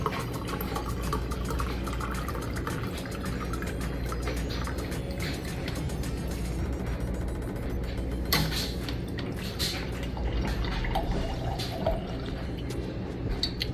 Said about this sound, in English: Even though there is no power, the water still running